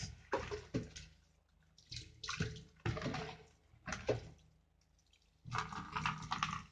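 Ingredients are being washed by hand under running water. Several separate bursts of splashing and rubbing sit close up, with short quiet gaps between them and no speech.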